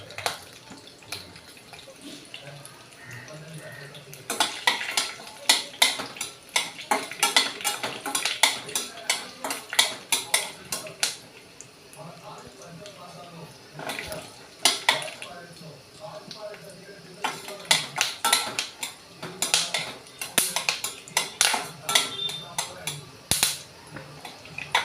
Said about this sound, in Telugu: ముందుగా పల్లీలు ఏమో తీసుకొని ఇందులో ఆయిల్లో వేసి వేయించుకొని ఇవి బాగా వేగాలి ఆయిల్లోని.